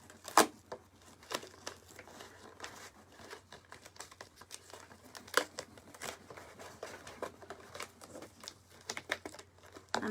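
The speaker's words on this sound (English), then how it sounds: "we'll just tape this paper towel roll right on here" Tape being handled close up while a paper towel roll is attached to a Kleenex box, with irregular crinkling, tearing and tapping of tape, cardboard and paper, soft and intermittent with a few sharper snaps.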